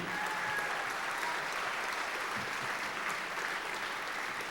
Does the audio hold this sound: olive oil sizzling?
no